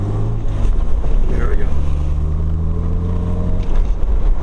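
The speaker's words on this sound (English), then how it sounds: "when this thing gets up and goes through the gears and that exhaust note" A 1970 Jaguar XKE engine drones loudly under heavy wind noise, its exhaust pitch rising slowly as it pulls through a gear, with someone speaking briefly over it.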